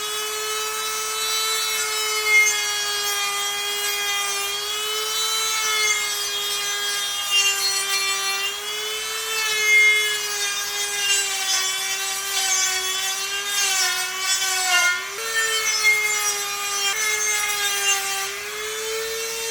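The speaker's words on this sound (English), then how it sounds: "I got this cheap Dremel on Amazon years ago. It's actually called a Rotary Tool" A high-pitched Dremel rotary tool whines steadily while sanding metal on a 1994 Chevy K1500, pitch wavering slightly as it presses against the hard surface, close and continuous.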